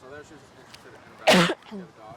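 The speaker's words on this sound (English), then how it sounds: "It was a cough." A person speaks briefly, then a single sharp cough bursts out, close and loud, before talking resumes.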